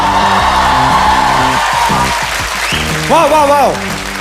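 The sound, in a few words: audience applause at a comedy show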